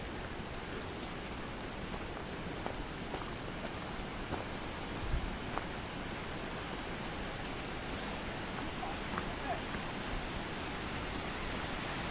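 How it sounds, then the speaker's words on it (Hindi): Steady, dense rush of falling water fills the whole stretch, a constant broadband roar with no voices and only faint scattered knocks. "ऊपर से पानी आ रहा है।"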